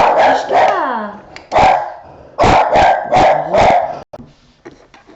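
A dog barks loudly and close by in three separated clusters of sharp barks, with a quieter rustle trailing at the end.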